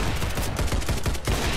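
Rapid bursts of M4 rifle fire in a Roblox shooter, a loud, dense string of close automatic shots with a brief gap near the end before firing resumes.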